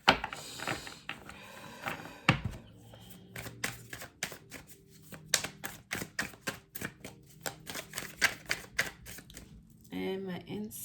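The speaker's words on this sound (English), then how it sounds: "Just doing a little bit more shuffling for you guys on camera" A Wild Unknown tarot deck is shuffled up close in quick repeated papery riffles and taps, a brisk rhythmic run of card flicks with a little talk at the start and end.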